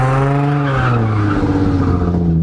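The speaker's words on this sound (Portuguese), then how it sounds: "É legal que esse carro faz drift sozinho" A Nissan 350Z drifting, its tires skidding and squealing in a loud, sustained wail that rises and falls in pitch over a steady engine drone, close by.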